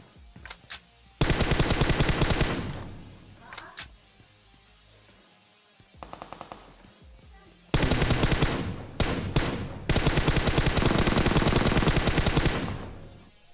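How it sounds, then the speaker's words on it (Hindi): PUBG Mobile gunfire, including an M4 rifle, rattling out in loud automatic bursts with a few isolated single shots in between. The longest volleys run several seconds each. "आगे दबा के गोलियां चल रही है ना"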